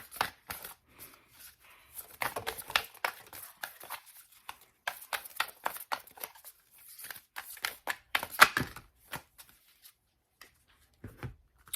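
Tarot card decks being shuffled by hand, producing close, intermittent bursts of riffling and flicking cards separated by short pauses.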